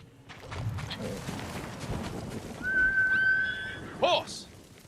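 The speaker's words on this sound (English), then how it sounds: "Horse." Horse in the video game Ghost of Tsushima gives a drawn-out whinny over rustling movement and muffled hoofbeats, close and moderately loud, with a sharp snort near the end.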